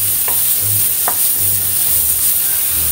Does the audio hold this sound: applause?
no